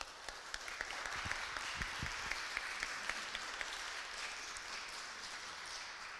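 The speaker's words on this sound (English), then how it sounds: "please, a round of applause for our panelists" Audience applause for a conference panel in Florence, a steady wash of clapping from a medium-sized crowd that holds evenly through the clip, with a few sharper individual claps standing out near the start.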